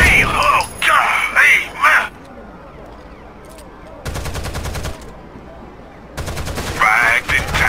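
Gunfire in the tactical shooter Rainbow Six Vegas: loud bursts of rapid automatic fire come in clustered volleys separated by quieter gaps, mixed with shouted squad callouts.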